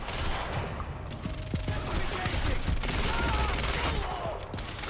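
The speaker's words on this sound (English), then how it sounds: "Gotta burst your shots." Rapid gunfire bursts from the video game Quantum Break crackle loudly and continuously through a combat scene in an industrial area, dense overlapping shots with mechanical clatter and no pauses.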